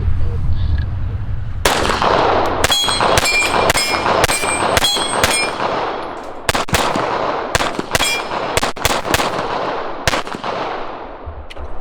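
A series of Taurus TX9 pistol shots rings out, each crack followed by a bright metallic clang of bullets striking a steel target, fired in irregular clusters and heard close and loud.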